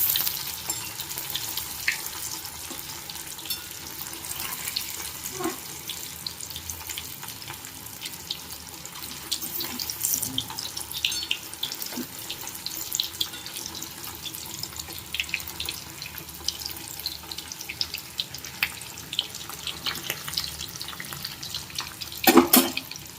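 Potatoes frying in oil in a pan for Kathiyawadi-style dum aloo, a steady hissing sizzle that runs throughout with occasional clinks as they are turned with a spatula.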